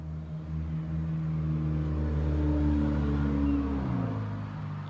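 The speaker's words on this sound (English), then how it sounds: "there's a lot of car noise." Steady low rumble of passing car traffic in an urban metroplex, engines droning and shifting pitch as vehicles go by, continuous and moderately loud with no voices.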